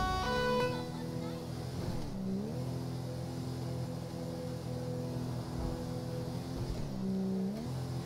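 Car engine in GTA 5 on a police patrol climbing a mountain road, its automatic gearbox dropping gears: steady, fairly loud engine drone with revs sweeping down and up around each shift, someone talking over it.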